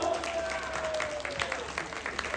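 An audience at a bull-versus-bull fighting arena in Jinju, Korea, gives a round of scattered, moderately loud applause while an announcer speaks over the clapping.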